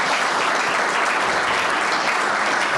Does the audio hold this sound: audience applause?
yes